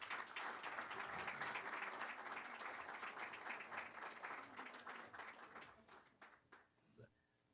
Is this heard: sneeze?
no